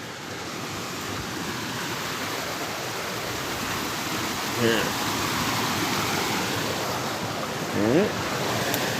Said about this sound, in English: Unless this trail just goes to the waterfall. Because there's a waterfall too.